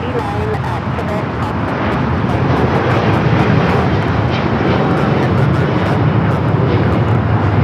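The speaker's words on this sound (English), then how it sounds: "That was El Al Flight 6 taking off to Tel Aviv on the 787-9 Dreamliner in the retro livery" An El Al Boeing 787-9 Dreamliner in retro livery takes off from LAX for Tel Aviv, its engines a broad, loud, steady roar that builds slightly, with crackling rumble and airport ambience.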